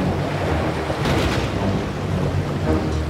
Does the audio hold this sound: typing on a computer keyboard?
no